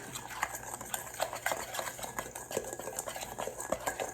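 Quick whisking of a dry shawarma spice blend with cinnamon and oregano, a spoon or whisk ticking against the bowl in a steady, close clatter of small clinks over about four seconds, with no voices.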